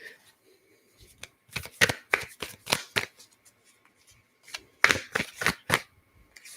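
Cards from The Universe Has Your Back oracle deck shuffle in quick rustling bursts, two flurries of crisp riffles and taps separated by a short pause, close and alone with no talk.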